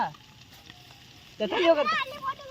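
Fish sizzling and frying in a pan at an outdoor cooking spot, a low crackle at first, then louder spattering with children's voices talking over it.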